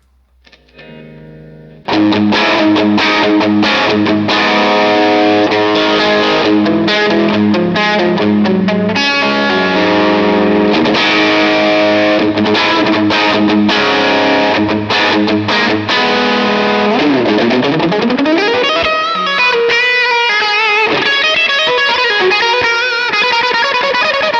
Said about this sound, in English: I've got quite a high gain tone with lots of reverb, so let's hear it.